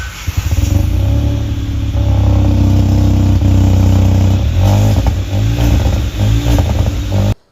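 Hyundai i20 N Line with a dual tip exhaust revving loudly nearby, a steady throaty engine drone with repeated blips and surges in the second half before cutting off abruptly.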